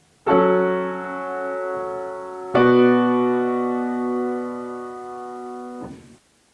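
A root position chord progression in four-part harmony played on a sustained keyboard-like instrument: two long held chords, the second struck at about two and a half seconds, each ringing clearly before a brief low change at the end.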